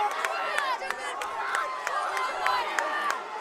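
Ringside crowd at an amateur boxing bout between Edward Donovan and Frank Madsen shouts and cheers at a moderate distance, with sharp repeated claps and yells over a steady murmur.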